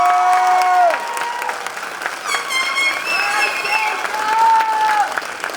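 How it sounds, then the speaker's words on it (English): A commencement crowd applauds the faculty at a high school graduation, broad clapping and some cheers running continuously while voices carry over it in a large hall. "why don't you give that faculty sitting in front of you a great big round of applause"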